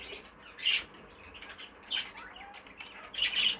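A pair of show birds in a cage chirp in short, sharp bursts spaced a second or so apart, with light wing flapping in between; close and fairly clear.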